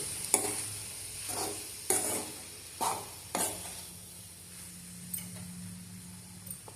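Pesara pappu curry simmers on low heat in a pan while a spoon scrapes and stirs it in several distinct, spaced strokes over a soft, steady bubbling hiss.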